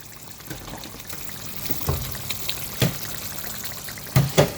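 Water splashes into a cooking pot for an oxtail braise in a close, uneven pour, with small bursts and gurgles and a faint hiss beneath.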